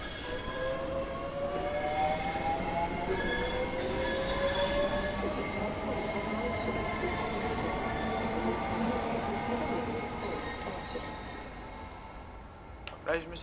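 A train pulls into a station in Train Sim World 2, with the Dosto double-deck coaches also arriving. Squealing wheels and rising tonal whines run over a steady rumble across the clip, then fade near the end.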